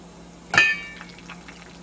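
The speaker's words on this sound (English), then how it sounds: "The skins get covered with water and then simmered" Water poured over wild muscadine grape skins for jam, a short splashing pour starting abruptly and trailing off with faint liquid ringing, close and alone.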